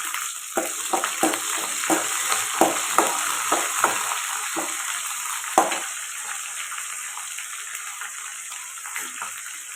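Pirandai (adamant creeper) sautéing in a pan for thuvayal, with a bright continuous sizzle and a steady series of scraping stir strokes up close.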